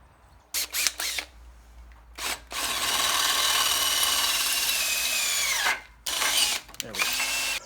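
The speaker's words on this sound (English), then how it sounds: "I'm going to open that up to 3/8 with the drill." A power drill whines in several short bursts, then runs steadily for a few seconds as it bores a hole out to 3/8 inch through a steel steering shaft, followed by more brief bursts.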